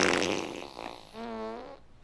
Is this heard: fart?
yes